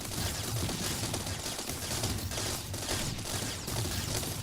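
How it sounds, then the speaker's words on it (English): Plasma rifles and railguns fire at a boss in the vehicle-building game TerraTech, a continuous rattling barrage of rapid shots at moderate level with no talk. "I wonder if I can actually hit him with the plasma rifles enough times, or the railguns, to take his shields out from here."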